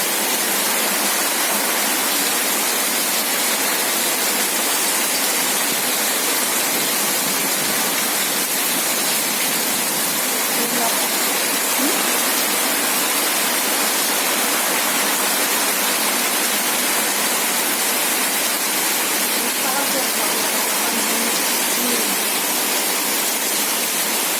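Heavy monsoon downpour in Shirur taluka, a dense, steady roar of rain that holds at high level with no letup and no voices.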